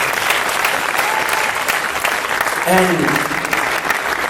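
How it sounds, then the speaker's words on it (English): Alumni at a silver jubilee reunion applaud Professor Sangeeta Gadve, loud dense clapping filling the room throughout, with a brief voice rising over it partway through. "A round of applause to her."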